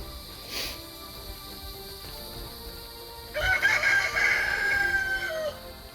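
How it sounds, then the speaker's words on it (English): Chickens in a homestead coop: a rooster lets out one loud, drawn-out crow midway, with low clucking and scratching around it. "The chickens come in and out."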